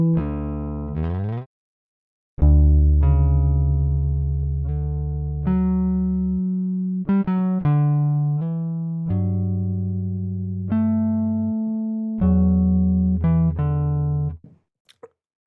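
An electric bass guitar sample playing a melodic line of deep, sustained, rich-toned notes, close and loud, after a short opening phrase and a pause.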